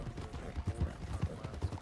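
Horse hooves clip-clop in a Wild West roleplay game, a steady rhythmic trot of soft repeated thuds with a low background hum underneath.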